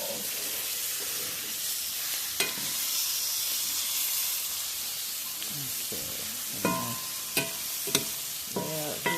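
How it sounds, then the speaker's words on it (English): A frying pan of sizzling blackened seasoning being scraped and stirred while shrimp and portobello mushrooms cook: a continuous hiss of frying, with occasional sharp utensil knocks and scrapes near the end. "Definitely keep scraping those seasonings up off the pan."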